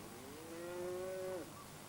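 A single cow moos on the Channel Islands, one long drawn-out low call of over a second that holds steady and then breaks off, heard alone against quiet outdoor background.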